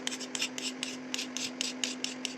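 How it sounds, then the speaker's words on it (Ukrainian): A knife blade scraping a sharpening stone that is being prepared for gluing onto an aluminium blank, a quick run of rhythmic rasping strokes, close and fairly quiet, with no speech. "шкрябаємо брусочок. Можна це зробити наждачкою."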